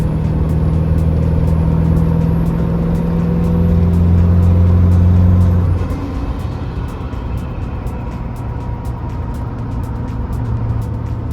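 A broken Ford Super Duty truck under load, its engine droning loud and close as it pulls hard, then the pitch drops sharply at a gear change before it settles into a steady lower hum.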